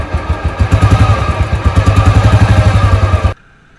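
A motorcycle engine idles steadily and close by with a rapid, even clatter of firing pulses, then cuts off abruptly near the end, leaving near silence.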